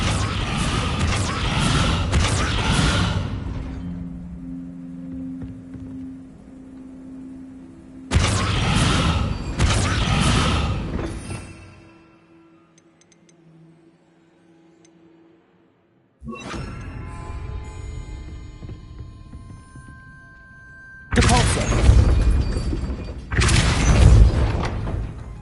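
In Hogwarts Legacy, the Descendo spell fires with loud booming, crashing bursts in several separate waves. Quieter mechanical and creaking gaps fall between them, and one stretch is nearly silent.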